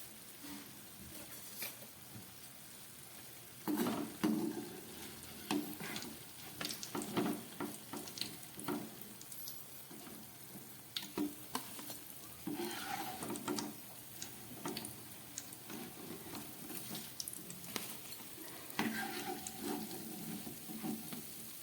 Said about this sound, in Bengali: এই তেলের মধ্যে আমি এই গোল খাজাগুলোকে ভেজে নেব